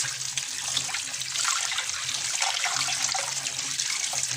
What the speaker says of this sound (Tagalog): hugasan nyo sa running water